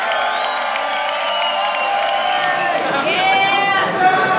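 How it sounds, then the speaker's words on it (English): A crowd cheers and shouts loudly at the final of a beatbox loopstation battle, with a steady roar of voices and whoops and a host calling out over the noise. "Make some noise, crowd."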